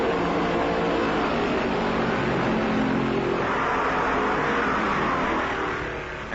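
A Dodge stock car races at speed in the 1964 Southern 500, heard as a constant loud engine roar mixed with other cars, fading slightly at the end, with no voices.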